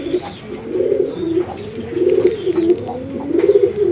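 Pet pigeons, hens nearing egg-laying, coo in a steady series of low rolling calls, repeated close by with a faint background hum.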